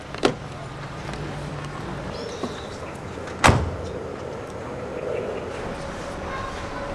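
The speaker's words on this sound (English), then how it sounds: "the driver of the Cavalier returned to his car and opened up" A Vauxhall Cavalier's door is opened by its returning driver on a street: a sharp click near the start, a lighter knock mid-way, then a louder clunk of the door against a low steady background hum.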